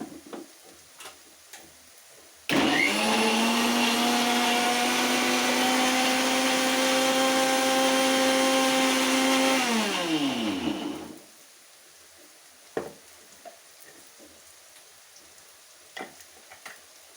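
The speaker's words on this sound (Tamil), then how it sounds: "தக்காளி இதெல்லாம் கொஞ்சம் அரைச்சிக்கலாம்." An electric mixer grinds tomatoes into a paste for a wedding-style vatha kuzhambu, a loud steady whirring roar that runs for about eight seconds, winds down and stops, leaving a quiet kitchen.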